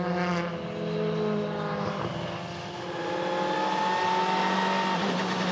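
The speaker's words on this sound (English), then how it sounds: "he leads us round the warm-up lap here, the final formation lap in Moscow" Race cars on the WTCC formation lap in Moscow, engines droning steadily with rising revs and gear changes, a continuous loud mechanical roar close by throughout.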